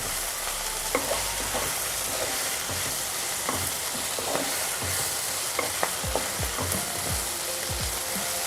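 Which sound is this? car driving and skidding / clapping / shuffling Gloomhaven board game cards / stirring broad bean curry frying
stirring broad bean curry frying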